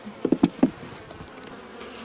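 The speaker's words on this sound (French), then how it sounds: "Ah, une guêpe qui commence à nous embêter." A wasp buzzes around an open beehive, giving a few sharp close buzzing bursts early on. Quieter outdoor hum and faint insect noise follow.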